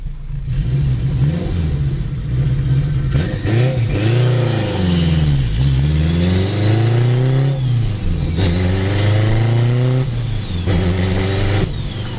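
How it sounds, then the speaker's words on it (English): Turbocharged, straight-piped 800 HP all-wheel-drive 2002 Acura RSX Type-S accelerating on a cold day, its loud engine note rising and falling through several revving pulls and gear changes, close and continuous with no talk. "When that turbo spools up, bro, it's old."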